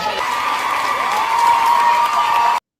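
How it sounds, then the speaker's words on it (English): Audience applause and cheering from a Turning Point USA event, playing back at steady, full loudness as a crowd noise, with a sustained tonal hum running through it before cutting off abruptly. "So they're clapping for her."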